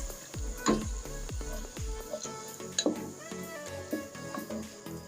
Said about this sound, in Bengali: আমি মশলাটা একটু ভালো করে কষিয়ে নেব